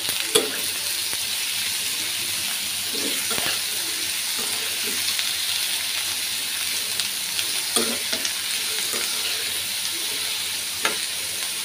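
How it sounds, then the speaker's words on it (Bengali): Sliced pointed gourd and green chili fry in a hot pan, a continuous loud sizzle with scattered clicks and scrapes from stirring now and then. "এটা কিন্তু একটু ভাজা ভাজা করে তারপরে নামিয়ে নেব"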